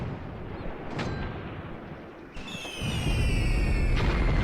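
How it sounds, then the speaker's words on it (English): A 15 centimeter gun fires in the Graviteam Tactics war game, sending out a deep distant boom that rolls into a long heavy rumble, while fainter artillery thuds and whistling rounds sound in the background. "that was the 15 centimeter gun"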